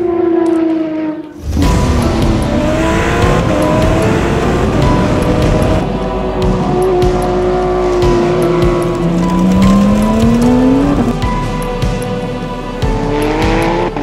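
A 1000 HP twin-turbo Porsche 911 R race car screams at high revs on a track, its engine pitch rising and falling through gear changes with tire squeal, loud and close throughout.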